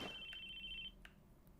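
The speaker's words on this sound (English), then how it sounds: "Sound of a phone ringing, but whose?" A mobile phone rings in the visual novel game Chaos;Head Noah, a faint electronic ringtone tone held for under a second before cutting off, with quiet background hum.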